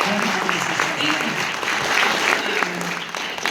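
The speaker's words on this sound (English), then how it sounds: "Clap that" Audience applause at a motivational business meeting, a brief burst of steady crowd clapping with voices mixed underneath throughout.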